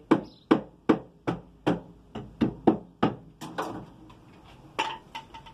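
A hammer knocks on wooden formwork for a sandwich-style concrete pillar box tied with wire, about a dozen sharp, close hollow blows in an even rhythm, then a few lighter, scattered taps, with no talking.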